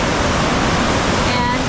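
Steady broadband rush of the Miljacka River flowing through Sarajevo, a continuous close wash of water with no breaks and faint city sounds mixed in.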